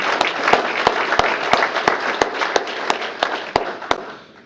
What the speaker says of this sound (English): So let's have a round of applause for all those individuals.